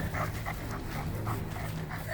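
A dog panting hard and rhythmically during a bite-training run, quick breaths repeating roughly every quarter second, very close and loud, with faint whimpering mixed in and no speech.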